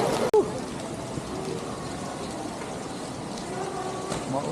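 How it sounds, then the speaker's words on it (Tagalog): Heavy rain pours down in Vietnam, a dense, steady hiss of drops on surfaces filling the whole stretch, with a brief thump near the start. "Ang lakas ng ulan sa Vietnam."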